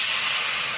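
Batter for bati saapta hits a hot oiled pan, giving a loud, steady hiss that holds evenly through a short burst.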